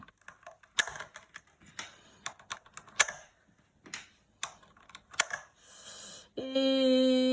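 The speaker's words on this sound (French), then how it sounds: "j'ai pas rangé la petite monnaie. Alors je sais que ça fait du bruit" Small metallic clinks and clicks in quick irregular bursts, like coins being sorted, ending with a sustained electronic whirring tone.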